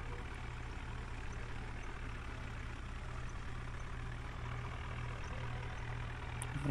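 A tractor pulling a trolley rumbles near a JCB, a steady, quiet low engine drone that barely changes.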